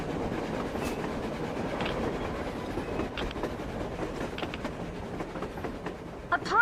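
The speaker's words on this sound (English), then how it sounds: "A train! A damn train on the surface!" A train rolling across the surface in the video game Metro Exodus, a continuous low rumble with faint rhythmic clacking of wheels on rails, heard from some distance and building slightly toward the end.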